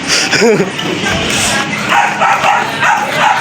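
A dog gives a few yips and barks near the start, followed by a busy outdoor scene with voices talking and general movement.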